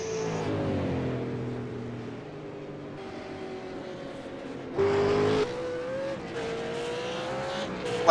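V8 Supercar race car braking into the final hairpin at Oulton Park, a loud engine note that drops as it slows, then a brief sharp surge as it powers out, with rising revs and gear changes toward the end.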